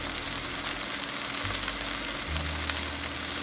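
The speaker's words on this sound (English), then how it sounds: "It was cooking good before, but it's really sizzling now" Beef strips browning in a hot pan for stew give a steady, close sizzle with a dense, crackling hiss throughout, alone without talk.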